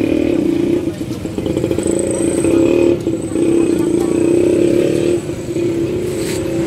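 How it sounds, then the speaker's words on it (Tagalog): A motorized tricycle engine drones and putters steadily through a ride around a market area in San Pablo. The sound is close and continuous, with slight dips in level and a rattling clatter underneath. "Sige, sakay na tayo sa tricycle."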